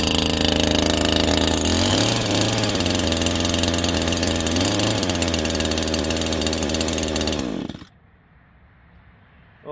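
A Neo-Tec NH843 chainsaw engine buzzes loudly and steadily up close, its pitch briefly dipping and rising, then cuts out abruptly near the end, leaving quiet rustling.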